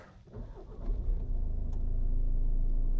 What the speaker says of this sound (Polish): Naciskamy hamulec, przycisk start.